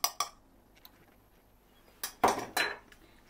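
Eggs and flour being mixed with okra in a bowl: a few sharp clinks of a spoon against the bowl, then a short burst of scraping and clattering after a quiet pause.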